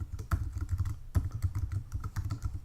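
Quick, uneven keystrokes on a computer keyboard as a password is entered, a close run of clicky taps with brief pauses and no talking.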